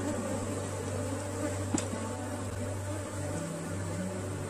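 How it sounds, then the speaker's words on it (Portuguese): Honeybees swarm densely around opened hive frames, making a continuous, fairly faint buzzing drone that holds steady throughout, with a brief knock partway through. "Olha só como ainda tem muitas abelhas."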